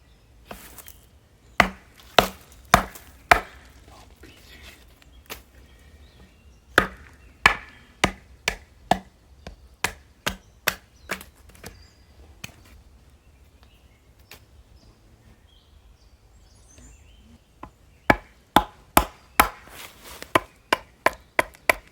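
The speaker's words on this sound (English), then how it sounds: "And finally, let's try some batoning." Sharp, woody knocks of a Morakniv Amberg S bushcraft knife being batoned through wood, delivered in uneven clusters of close, loud strikes with pauses between the bursts.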